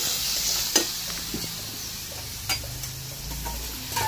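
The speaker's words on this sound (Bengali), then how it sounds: "সঙ্গে সঙ্গে পটলগুলোকেও দিয়ে নেবো, একসাথে কষাবো" Whole pointed gourd fries with Kashmiri chili powder in a pan, giving a steady moderate sizzle broken by a few sharp spoon taps and stirring clicks, close and with no talking.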